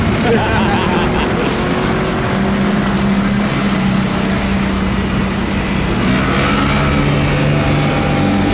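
A supercar on the streets of Monaco comes down the road, its engine a steady, loud roar that swells as it drives past, with voices faintly in the background.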